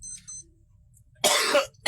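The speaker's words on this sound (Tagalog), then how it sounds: "Grabe, may ubo-ubo pa rin ako." A single short cough rings out near the microphone after a quiet stretch, followed by the start of another.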